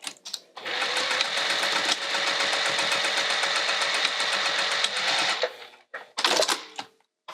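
A sewing machine stitching bag seams runs in a fast, steady mechanical rattle for about five seconds up close, then stops, followed by a couple of short bursts of stitching.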